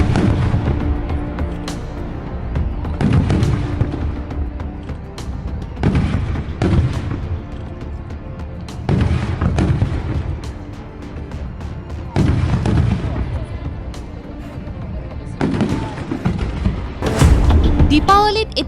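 Diwali firecrackers burst again and again, loud, sharp cracks and booming explosions at irregular intervals, while a news narrator talks over them.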